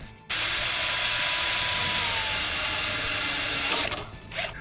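A drill bores a hole for a motorcycle alarm's LED housing, a loud, steady high whine running about three and a half seconds before winding down, followed by a brief rattle.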